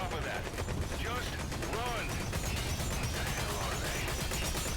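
Rapid gunfire from a Metal Gear Solid V: The Phantom Pain match, a dense, continuous automatic barrage with sharp repeated cracks, loud and close throughout.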